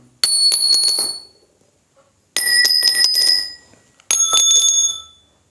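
Three plucked notes from a stretched string, each ringing bright and clear then decaying, the string shortened between plucks so the pitch rises, with short silences between them.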